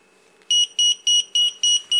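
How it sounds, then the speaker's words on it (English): A BEC power distributor sounds its alarm because only one of its 7.2 V nickel metal hydride batteries is connected: six loud, evenly spaced electronic beeps follow a brief quiet start, with no talking. "giving an alarm just to show that there's only one battery connected"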